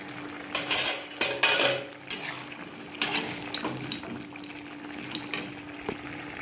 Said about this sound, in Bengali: কড়াই থেকে ঢেলে একদম বাটিতে নামিয়ে নিয়েছি রেডি